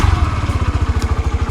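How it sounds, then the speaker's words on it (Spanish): A motorcycle engine runs just after being started, a close, loud, fast, even thumping idle pulsing steadily throughout. "recién puse en marcha la moto, arrancó al toque"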